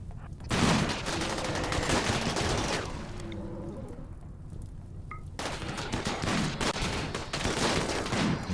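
Gunfire in RimWorld, a dense crackle of rapid shots in sustained volleys, briefly pausing midway before the firing resumes, loud and without talk.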